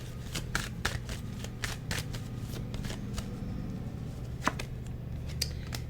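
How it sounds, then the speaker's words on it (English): Tarot cards are shuffled in quick bursts of crisp riffling snaps, a run of sharp flicks repeating close by, with no talking. "Let me shuffle on this."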